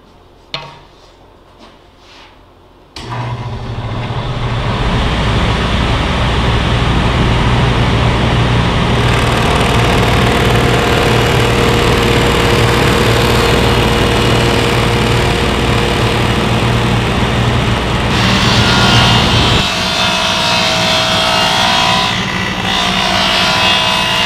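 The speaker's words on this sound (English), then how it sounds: "I'm going to turn on the saw, run the blade up until it cuts through the center of that dot." A power saw starts with a sudden roar after a few quiet seconds and then screams steadily and loudly while cutting a rabbet in wood, its tone shifting near the end of the cut.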